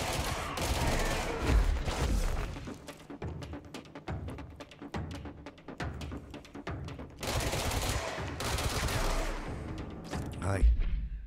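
Video game firefight with a sniper rifle among the weapons: dense bursts of sharp gunfire crackle and boom in clusters, pausing between volleys before erupting again, with background voices mixed in.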